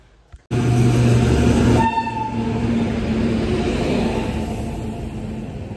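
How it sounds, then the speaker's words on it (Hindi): A train pulls into Mahasamund railway station with a loud, steady rumbling roar and a sustained horn-like tone in the first stretch, heard up close and without speech. "मैं पहुंच गया हूं महासमुंद रेलवे स्टेशन, देख सकता था वो ट्रेन आ गई है"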